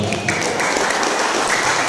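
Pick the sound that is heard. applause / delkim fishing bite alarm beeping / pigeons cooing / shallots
applause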